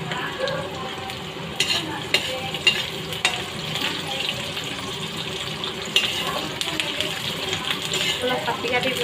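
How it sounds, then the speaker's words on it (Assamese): Onions fry in a pan until reddish, making a continuous sizzle broken by occasional sharp knocks and scrapes from stirring. Faint voice sounds drift in the background. "ৰঙা হোৱালৈকে পিঁয়াজখিনি এনেকৈ ভাজি থাকিব লাগিব"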